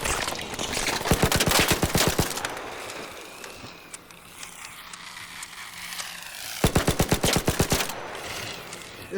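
Rapid bursts of gunfire from the video game Arc Raiders, two loud automatic volleys of sharp rhythmic shots separated by a quieter stretch of game ambience.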